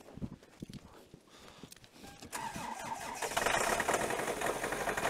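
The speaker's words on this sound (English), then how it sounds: "And then Melissa goes and starts the car." A car engine in freezing Korean winter weather cranks with help from a jump-start battery pack, catches, and settles into a loud, rough-running idle. It is close by, with faint footsteps early on and no talking.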